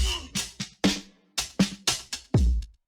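A sampled drum loop plays alone: about ten crisp, close hits in a quick, uneven beat mixing deep kick thumps with sharper snare-like cracks and short tonal decays.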